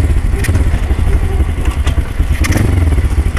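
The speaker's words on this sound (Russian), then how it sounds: "То есть вот мотоцикл начинает у вас катиться." A motorcycle with a semi-automatic gearbox is roll-started without its electric starter, giving a loud, close, uneven mechanical clatter and rumble with occasional knocks and thumps as it rolls in gear.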